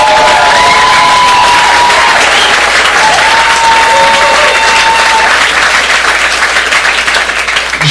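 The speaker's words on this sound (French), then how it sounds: "Est-ce qu'on pourrait l'applaudir lui aussi?" Sustained applause fills a French short-film festival screening hall, a dense steady wash of clapping from a large audience, with a few cheers and whoops rising over it throughout.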